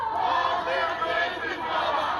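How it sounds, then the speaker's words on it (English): Crowd of rally marchers spilling onto the street outside the Israeli consulate near Yonge and Bloor, a steady, dense murmur of many voices with scattered distant shouts, continuous and moderately loud throughout. "The crowd spilling out on the street, marching down Yonge."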